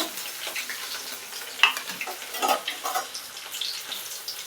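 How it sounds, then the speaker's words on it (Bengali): Chicken dumplings frying in oil in a pan, a quiet, close sizzle dotted with scattered crackles and small pops, with no talking over it. "এগুলোকে আগে ভেজে নিলাম, এগুলো একটা একটা করে একটু দিয়ে তারপরে ফিশ ফ্রাইটাকে ভেজে নেব।"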